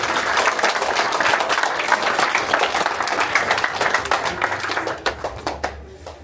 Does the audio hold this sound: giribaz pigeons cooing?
no